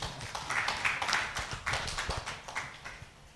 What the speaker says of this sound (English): I want the shareholder to give them a round of applause again